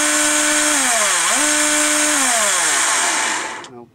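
Electric motor spinning a jet unit through a plum coupler, a loud high whine that holds steady, briefly drops and recovers in pitch, then winds down and stops near the end.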